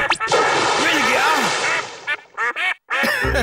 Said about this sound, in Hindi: बतखिया चिल्लाए, सारे बतख उड़ते चले आए